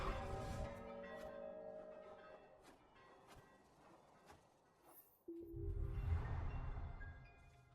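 A bell rings in a video game, a resonant metallic tone with a long ringing decay, then a second louder chime at a similar pitch swells in and lingers with a soft shimmer.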